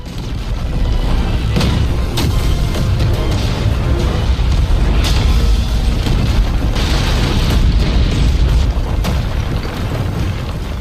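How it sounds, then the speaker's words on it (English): Asteroids blowing apart in an animated sci-fi space battle, a dense, continuous roar of booming blasts with sharp bursts and crashes layered on top, loud and unbroken throughout. "In a single shot, several asteroids blocking the way exploded."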